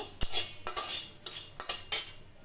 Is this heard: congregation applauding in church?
no